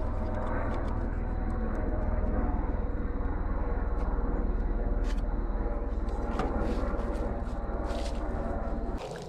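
A low, steady rumble of a helicopter passing overhead, filling the whole clip, with faint scattered clicks and rustles nearby.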